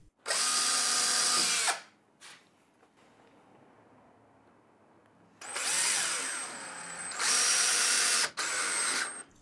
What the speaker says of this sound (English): Drill a pilot hole with a slight countersink and fit the screw.